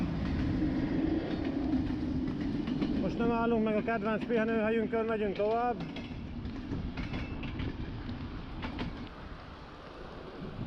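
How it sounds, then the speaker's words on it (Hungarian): Train rumbling past near a Balaton lakeside route, a continuous heavy roar with wheel clatter, passing under a man's speech and easing off toward the end. "Megint a vonat."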